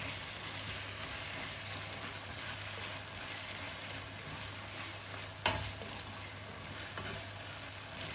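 Keema with onions and green chilies sizzling in a pan for achari keema karela while being stirred, a low steady frying hiss with soft scraping and one sharp utensil knock partway through.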